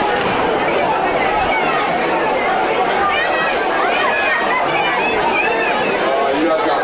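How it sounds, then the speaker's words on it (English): Crowd chatter fills the stands at a high school football game, a loud, dense babble of many voices with occasional shouts rising above the steady hubbub. "Got a big crowd here tonight."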